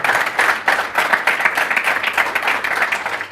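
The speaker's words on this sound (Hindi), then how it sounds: "एक बार जोरदार तालियां हो जाए" A Hindi talk-show audience gives a loud, sustained round of applause, dense clapping with steady swells and no voices.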